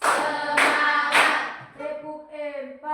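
A school class claps in a counted rhythm, giving three sharp, loud group claps about half a second apart, each followed by a voice chanting the count, then fading into continued chanting.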